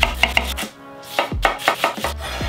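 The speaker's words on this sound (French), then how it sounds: "On va couper les oignons en gros morceaux." Onions are cut into large pieces with a knife on a board: sharp, close chops in quick clusters with a brief pause mid-way, each stroke a crisp thud, no voices.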